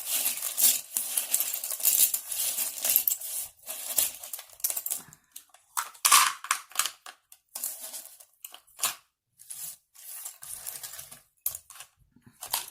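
Crisp, rapid riffling and flicking of cards, bursts of papery clatter separated by short quiet gaps, close up with no talking.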